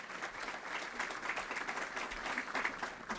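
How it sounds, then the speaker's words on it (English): Audience applause at an annual emerging manager conference, a soft, distant wash of many hands clapping that runs continuously without voices. "Give her a big round of applause."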